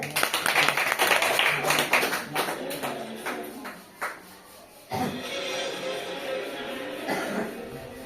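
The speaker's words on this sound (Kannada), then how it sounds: "ಜೋರಾಗಿ ಚಪ್ಪಾಳೆ" A group of children at a school quiz claps loudly in a dense burst of hand claps, which thins into scattered claps and shuffling, with voices around it.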